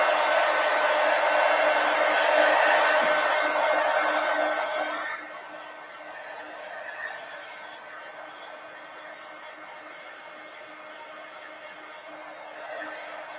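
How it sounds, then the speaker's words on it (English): A heat gun blows loudly and steadily for about five seconds, drying a painted page in an art journal, then drops to a softer, continuing hiss for the rest of the time. "let's hit this with the heat gun"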